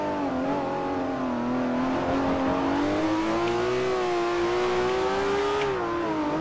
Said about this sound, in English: this Ferrari's quick off the line